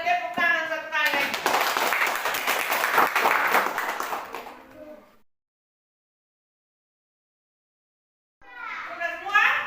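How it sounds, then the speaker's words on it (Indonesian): Schoolchildren in an elementary classroom clap together in a loud burst of dense applause for a few seconds, with children's voices before and after and a brief silent gap. "kalau benar kita tepuk tangan satu kali lagi"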